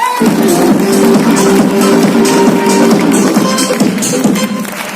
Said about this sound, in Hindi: एक बार अंकल के लिए तालियां हो जाए।